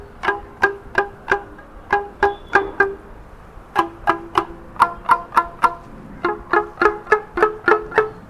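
A homemade rubber band guitar is strummed with a wooden stick, giving a steady run of bright plucked twangs in short rhythmic bursts, close and clear, with no voices.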